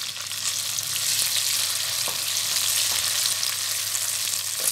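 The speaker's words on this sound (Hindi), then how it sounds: "अब हम इसमें आलू ऐड करते हैं।" Potatoes fry in a pan of Bengali-style okra fry with a dense, even sizzle that holds steady throughout. A few faint clicks of utensils sound under it, and no one talks.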